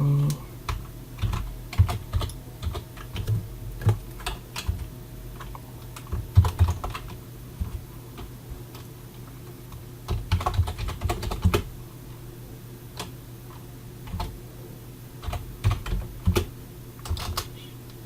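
Computer keyboard typing in bursts of quick, close, clicky keystrokes with short pauses between them.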